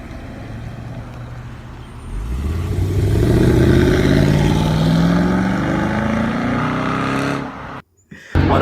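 A New South Wales Highway Patrol police car engine revs hard, its loud rising roar climbing through the gears before cutting off abruptly, then briefly returning.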